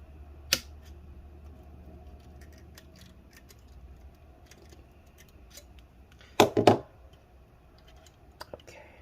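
Scissors cut up insulating material pulled from inside a Lenovo Legion 5 15IMH05H laptop during disassembly. Sharp snips come near the start, a quick cluster of crisp cuts later, and a few light clicks at the end, over a quiet room.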